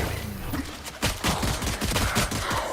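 A burst of rapid gunfire from a competitive online shooter match, loud and close, with overlapping shots cracking in quick succession and a brief pause before the fire resumes.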